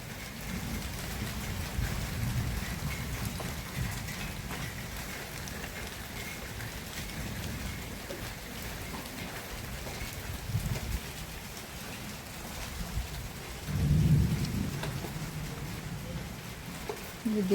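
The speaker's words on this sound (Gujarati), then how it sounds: "આમ તો વરસાદ છે, આમ તો બધી વરસતો હશે, કેટલોય વરસતો હશે" Heavy out-of-season rain with thunder during a windstorm, a steady broadband wash of downpour that persists throughout, with a louder low rumble swelling briefly near the end.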